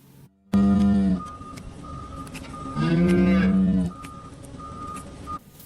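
A cow moos loudly twice up close, long drawn-out calls, during hoof trimming for a white line defect, while a faint electronic beeping repeats in the background.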